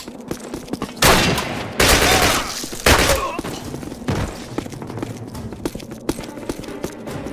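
A Call of Duty battle plays out with loud bursts of rapid gunfire and heavy thumps, punctuated by pauses and quieter background action; a voice is faintly present.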